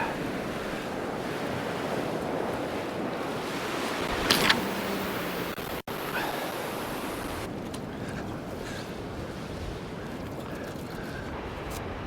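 Steady surf roar from small waves, about a foot and a half of swell, breaking on a winter beach at Dimlington on the Holderness coast, with a southerly wind rising. The wash stays continuous throughout, with a brief knock partway through and no voices.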